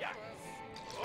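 A dog in the World War I adventure game Valiant Hearts lets out a quick bark and yip, followed by a thin whimper, moderately loud over a busy game soundtrack.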